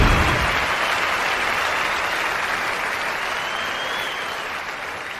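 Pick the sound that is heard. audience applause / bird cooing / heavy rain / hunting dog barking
audience applause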